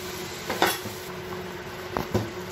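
Fried paneer stirred into a sizzling masala for paneer sabzi, a steady faint sizzle under a few scraping stirs and utensil knocks against the pan.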